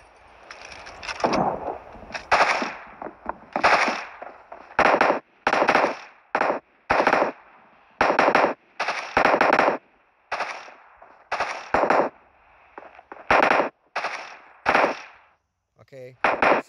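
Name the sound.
gunfire from weapons in the video game PUBG Mobile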